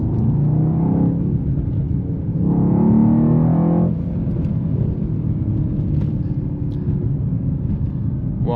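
Mercedes-AMG E63 S sedan with a 9-speed automatic accelerating hard, a loud steady engine roar and rumble that rises, shifts around the four-second mark, then keeps pulling.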